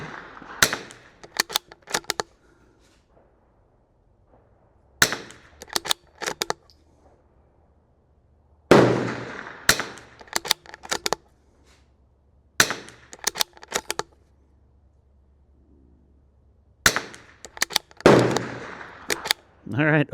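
Sharp, close shots from a Bergara BMR-X .22 LR rimfire rifle come in quick clusters of several rounds. Each cluster is followed by a few seconds of quiet, and the pattern repeats across an outdoor session.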